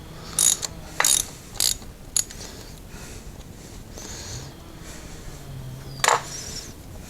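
A hand ratchet loosens a spark plug on a Hyundai Accent, clicking in four quick close bursts, then a quiet stretch of faint rustling before one more short burst.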